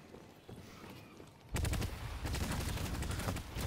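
Rapid bursts of gunfire in Deadlock aimed at a beginner's turret, starting abruptly after a quiet stretch and continuing as loud, dense automatic shots.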